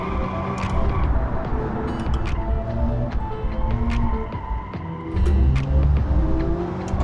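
Toyota AE86 in BeamNG.drive, its engine droning steadily through a drive with cornering, the note shifting with throttle and a brief tire squeal, and a voice occasionally talking over it.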